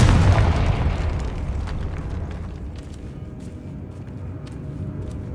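A loud, booming blast from the Confringo spell in the game Hogwarts Legacy bursts at the start, then rolls into a long, rumbling decay with scattered crackles and small pops.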